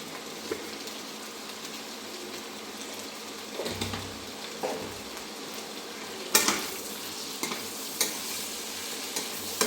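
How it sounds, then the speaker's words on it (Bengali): Potatoes with salt and turmeric fry in a pan and are stirred, a soft continuous sizzle broken by intermittent scraping and clinks of the spoon against the pan, close and fairly quiet. "দিয়ে আলুটা আমি একটু ভাজতে থাকি।"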